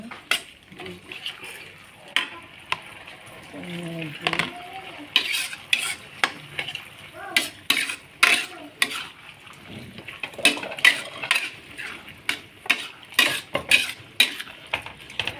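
Tomato and shallots are stirred in a frying pan. A spatula scrapes and knocks in repeated, uneven strokes over a soft sizzle, and a voice is briefly audible in the background.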